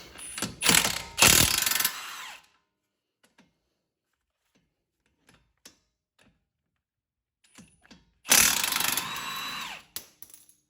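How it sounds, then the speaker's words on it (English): A ratchet loosens the lower strut bolts on a Mustang with rapid, close clicking bursts at the start. Scattered faint taps follow, then another loud ratcheting run near the end. "Now we can go ahead and loosen the two lower bolts on the strut."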